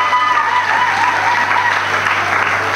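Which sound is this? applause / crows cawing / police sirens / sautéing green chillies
applause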